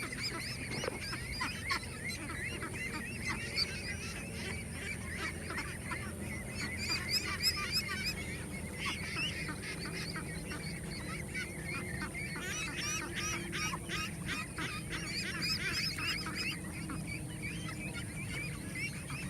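A large flock of white ducks foraging across a harvested field keeps up a dense, continuous chorus of honking and quacking, with bursts of louder calls over a steady murmuring background and no talking.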